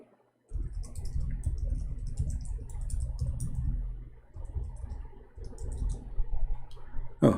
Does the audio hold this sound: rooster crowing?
no